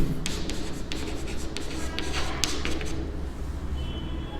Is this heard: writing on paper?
yes